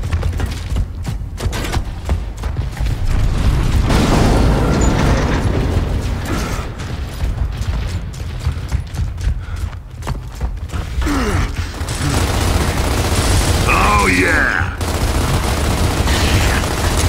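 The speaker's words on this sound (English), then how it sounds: "He's still shooting at me." Enemy gunfire in the video game Gears of War: Ultimate Edition, loud and close, with rapid rattling bursts mixed with mechanical clanks and game effects over a steady background rumble.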